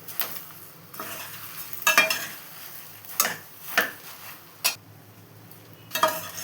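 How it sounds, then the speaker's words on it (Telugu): Coriander seeds roasting in a pan over low heat, stirred with a utensil that scrapes and clinks against the metal at irregular intervals, with a soft steady sizzle-like rustle between the strokes. "కొంచెం బాగా ఈ ధనియాలు కూడా మంచిగా వేగే వరకు సన్నపు సెగన వేయించుకోవాలి."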